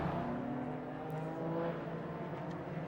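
Nissan race car running in the Nürburgring 24-hour race, a moderately distant engine whining and revving with shifting pitch as it passes, fairly quiet and steady, no voices.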